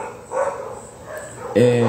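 Dogs barking nearby: a few short barks and yips break out, then one louder sustained bark or howl at the end, under and between ongoing talk.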